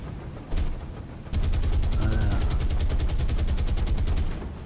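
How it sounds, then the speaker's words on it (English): Anti-aircraft guns firing in the naval game War on the Sea, a short burst followed by a long, loud, rapid rhythmic stream of shots that fades at the end, alone without voices. "Anti-aircraft fire is picked up again."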